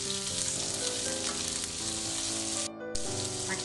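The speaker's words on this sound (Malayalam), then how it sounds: "ഉള്ളി അധികം ബ്രൗൺ കളർ ആവേണ്ട ആവശ്യമില്ല." Chopped large onion frying in a pan for poori masala, a steady dense sizzle running throughout with a brief dip near the end, and tonal music-like bands underneath.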